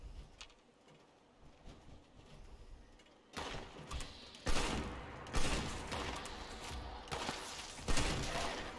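Rapid bursts of gunfire from the player's gun in Fallout 76, loud repeated volleys with sharp onsets that start a few seconds in after a quieter stretch, continuing irregularly to the end.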